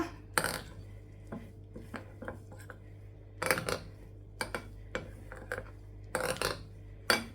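A spoon scrapes and clinks against a bowl while candy batter is mixed for Thaen Mittai, in short irregular bursts of clatter, close and fairly quiet over a steady low hum.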